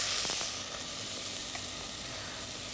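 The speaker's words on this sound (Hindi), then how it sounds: "इस पालक के पत्तों को थोड़ा सा हमने भूनना है" Chopped spinach sizzles loudly in hot oil with mustard seeds and curry leaves, a dense close hiss that swells at first and then settles into a steady fry, with a few faint pops and no talk.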